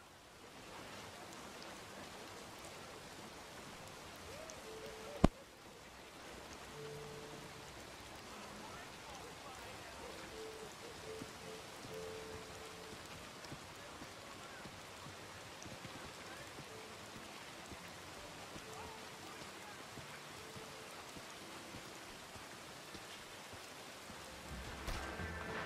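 Steady rain falling in Red Dead Redemption 2 running on Unreal Engine 5, a soft, even hiss of drops on the ground with one sharp brief knock early on, otherwise continuous and low.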